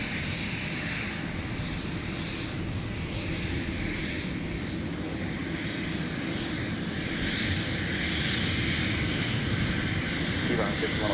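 Aircraft at Minneapolis–Saint Paul airport during winter holiday travel and de-icing operations, a steady loud engine roar that swells slightly toward the end, with continuous broadband rumble and no clear pauses.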